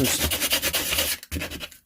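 Sandpaper rubbed by hand over a small slug of material to flatten it against a floor, a fast rhythmic rasping of about a dozen back-and-forth strokes, close and fairly loud, with a brief pause before a few more strokes.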